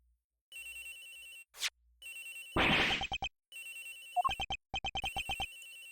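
A flip phone rings in the Ace Attorney Investigations game, its electronic ringtone sounding in repeated bursts with short gaps, interrupted by a sharp swoosh and a brief thud partway through.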